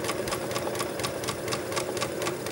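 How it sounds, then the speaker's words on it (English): Sewing machine stitching a second row around a pant leg for an elastic casing on bloomers, a rapid even mechanical chatter, continuous and close, with no talking. "we're gonna sew all the way around the second row of stitching"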